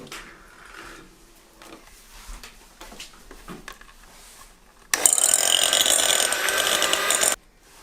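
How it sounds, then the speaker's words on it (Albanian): An electric hand mixer whirs loudly for a few seconds as it blends a no-bake Nutella dessert cream, following quieter handling noises in the kitchen, with no talk. "Edhe ja fillojmë me përzim me mikser."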